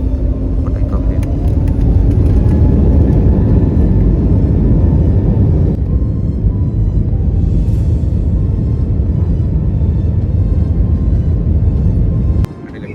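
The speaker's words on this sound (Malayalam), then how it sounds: "അങ്ങനെ ഫ്ലൈറ്റ് ഇതാ ടേക്ക് ഓഫിനായിട്ട് റൺ ചെയ്തുകൊണ്ടിരിക്കണം. ഇപ്പോൾ ടേക്ക് ഓഫ് ചെയ്യും." An Air India airliner on its takeoff roll down the runway, heard from inside the cabin as a loud, steady engine roar and rumble that holds throughout and drops away abruptly at the very end.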